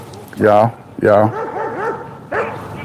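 A dog near a small park lake gives two loud, close barks and then a whimpering yelp, followed by a softer bark a moment later.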